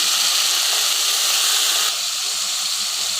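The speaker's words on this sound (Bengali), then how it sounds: "প্রথমে দিয়ে নিচ্ছি অল্প করে পানি" A splash of water hits a hot pan of fried onions, giving a loud, steady steaming hiss that eases slightly partway through, with no voices.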